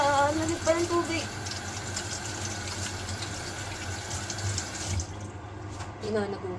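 Cold water runs from a tap in a steady hissing stream, close by, with people speaking over it; the flow eases near the end.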